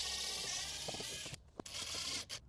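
Mounting screws being unscrewed from a Hyundai Elantra's radio, giving a close mechanical ratcheting and clicking with brief scrapes and a couple of short sharp taps, fairly quiet.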